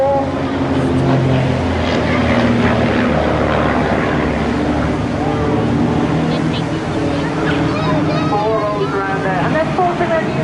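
An aerobatic propeller plane with a 180-horsepower engine flies loops at a seaside airshow, its loud continuous droning buzz rising and falling as it maneuvers, with an announcer talking over it.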